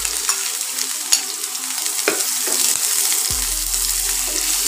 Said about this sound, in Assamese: এতিয়া আমাৰ মিঠাতেলখিনি গৰম হৈ গৈছে আৰু ইয়াতে মই এতিয়া দি দিম অকণমান পিঁয়াজ, মই যিখিনি মিহি মিহিকৈ কুটি লৈছিলোঁ।